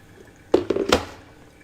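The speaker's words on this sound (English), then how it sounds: "I'll just do my last pour bit of the coffee" Water being poured over coffee for the last 100 ml of a brew, a short burst of close splashing and trickling lasting under a second, then fading.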